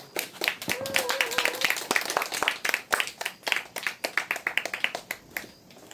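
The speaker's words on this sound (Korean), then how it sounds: "힘찬 박수로 맞이해주시기 바랍니다" A crowd at an outdoor protest rally against the Pungcheon-ri pumped-storage power plant claps to welcome a speaker, with sharp, lively hand claps, a brief whooping cheer early on, and the clapping tapering into scattered claps.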